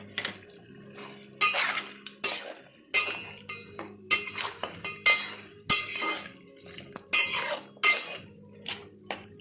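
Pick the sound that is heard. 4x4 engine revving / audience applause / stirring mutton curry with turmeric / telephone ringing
stirring mutton curry with turmeric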